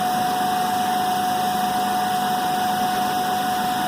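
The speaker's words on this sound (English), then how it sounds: "Loading the motor further by adjusting the motor field" A DC motor runs under load during a Hopkinson test, giving a steady loud electrical whine with a constant pitched tone over a dense mechanical hum, unchanging throughout.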